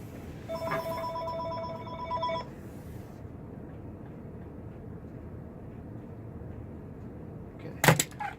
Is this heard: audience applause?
no